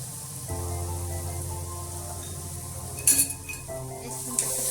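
Mushroom curry seasoned with salt and turmeric is stirred in a pan over a low, steady sizzle, with a spoon scraping and clinking against the pot a few times partway through.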